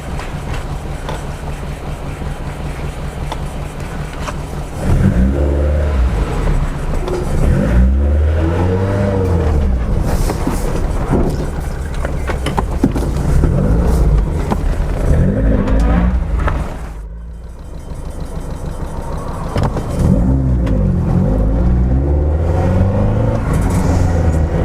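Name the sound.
Lotus Elite car engine revving on shakedown drive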